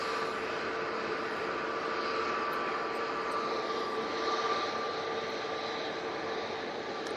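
Emirates A380 airliner arriving on approach in a crosswind, a faint, distant steady jet roar with a faint sustained whine, heard from afar with no talking.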